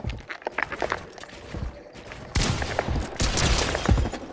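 Video-game gunfire in Fortnite cracks out in scattered bursts, sparse at first and then in denser, louder volleys in the second half, with footsteps and building edits clattering between shots.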